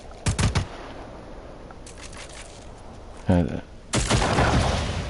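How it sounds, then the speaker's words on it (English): Shotgun fire in Just Cause 4, a few loud blasts spaced apart, with a rapid rattling burst and a longer booming discharge near the end, as someone speaks briefly. "that must be a shotgun. Special shotgun, because it's shooting very far"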